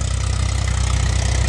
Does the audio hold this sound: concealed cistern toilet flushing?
no